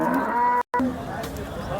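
HF cows at the Sangola cattle market low continuously and loudly, the mooing broken by a brief gap before it resumes amid busy market background noise.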